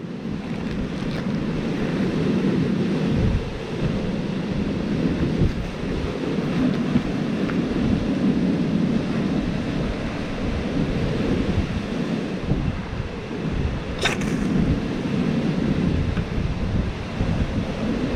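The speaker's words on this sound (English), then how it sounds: "The wind is ripping through here, so it's gonna be kind of hard." Strong wind roars across an outdoor fire-making spot, a continuous loud low rumble of gusts battering the microphone for the whole stretch, with no talking.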